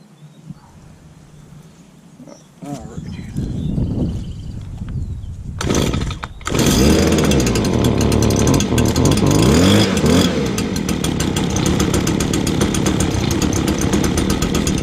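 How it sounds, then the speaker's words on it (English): Handheld leaf blower with a small two-stroke engine, pulled a few times before catching, then revving up and settling into a loud, buzzing, steady run. "I believe this is their top of the line handheld leaf blower"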